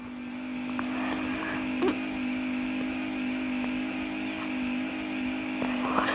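A car's engine in a racing video game drones steadily in top gear, a constant mid-pitched whine that holds level, with a couple of brief clicks over it.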